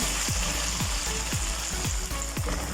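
Tomatoes frying in a pan for palak daal give a steady, close sizzle, punctuated by five evenly spaced soft scraping ticks about half a second apart.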